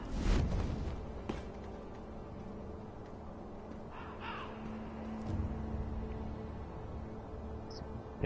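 Crows caw in Sekiro: Shadows Die Twice, harsh calls over a steady ambient game background with a soft whoosh near the start.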